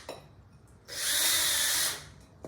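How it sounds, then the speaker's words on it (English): A power drill with a diamond-tip bit whines steadily for about a second as it bores through a taped ceramic plate, loud and close. Short clicks come before and after, with no talking. "the purpose of the tape was to help the drill bit"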